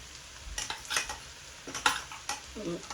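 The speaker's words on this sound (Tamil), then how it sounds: "இப்போ வந்து நான் இஞ்சி உள்ளி பேஸ்ட் வந்து இதில் ஆட் பண்ணுறேன்" Ginger garlic paste goes into a hot pan for egg kothu. A soft sizzle runs under repeated scraping strokes of a spoon stirring against the pan, giving several close, uneven bursts.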